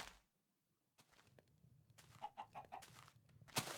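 A video-game chicken clucks in a quick series of short, nasal calls, fairly close, following a few faint rustles, ending with a louder squawk.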